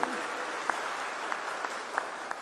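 An audience at a political speech breaks into steady applause, moderately distant, with a few sharper claps standing out from the crowd.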